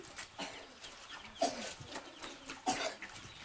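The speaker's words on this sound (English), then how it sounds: "This is a duck outside the mission house." A duck calls twice outside a mission house in Ghana, with short, clear outdoor cries about a second apart over soft background noise.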